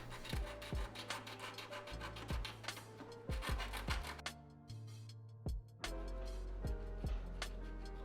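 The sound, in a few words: sanding down keyboard plate gasket cutouts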